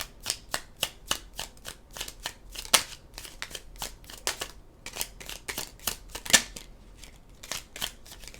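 Tarot cards shuffled during a reading, heard as a fast run of crisp, close snaps and riffles with brief pauses between bursts, with no talking.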